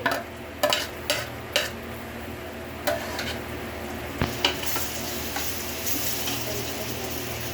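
Onions and tomatoes sizzle and fry in a pan, with a spoon stirring them in a series of scraping strokes that grow more frequent toward the end, all close by.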